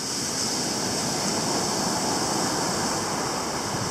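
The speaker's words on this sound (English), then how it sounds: "The waves are crashing" Rough ocean surf crashes onto a black- and brown-sand beach at Playa Los Bohios, filling the air with a continuous, loud, dense roar of breaking water and hiss, with no voices.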